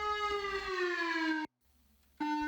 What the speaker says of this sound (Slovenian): Preplah oziroma neposredno nevarnost pomeni zavijajoč zvok sirene,